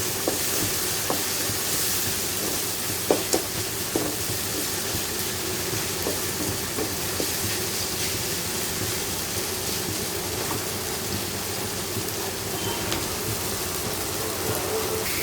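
Onions and tomatoes sautéing in oil in a pan for a South Indian vanjaram fish curry, giving a loud, steady, close hiss of frying with a few faint utensil taps and no voices.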